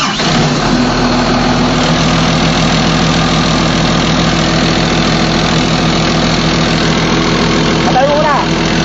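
Caterpillar 320CU excavator diesel engine running at a steady idle, loud and close, a continuous mid-low drone with a short surge near the end, with people talking over it.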